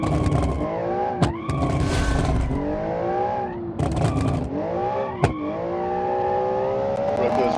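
A race car in a showcase race heat sliding its loosened back wheels through a turn, engine droning steadily with shifting pitch and brief sharp transients, while a voice talks over it throughout.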